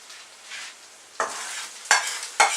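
Dried pasta goes into a pan of boiling water on a home stove, giving a soft bubbling hiss with a few sharp splashes and clatters as pieces drop in, close and fairly loud.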